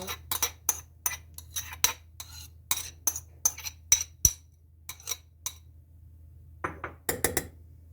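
A spoon clinks and scrapes sharply against a bowl in a steady, repeated rhythm while tomato paste, onion and oil are stirred together, loud and close with no talking.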